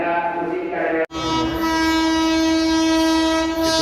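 An express train passes close by at a railway station, making a loud, sustained roar with a strong horn tone that holds for seconds and drops out briefly before resuming.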